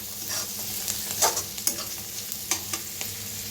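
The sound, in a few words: roasting spice masala with green chillies in a pan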